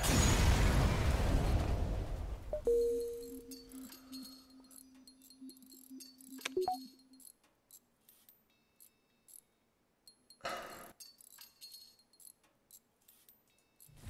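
Spaceship weapons firing and explosions in the FTL space combat game: a loud crashing burst opens, then fades into ringing tones, with a sharp click mid-way and another short blast later, otherwise quiet.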